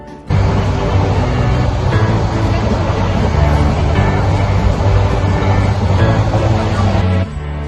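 A passenger train bound for Cox's Bazar, heard as a loud, steady rumbling roar of wheels and carriage that runs unbroken through the clip before easing off at the end.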